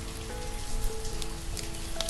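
Steady rain falls in the city-building game Banished, a continuous close patter of drops on surfaces with no talking.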